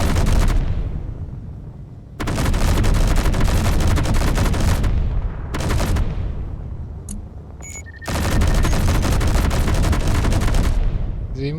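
Sustained bursts of rapid ship gunfire in the space game Space Engineers, loud and dense, coming in several long volleys separated by short lulls, with faint electronic tones between bursts.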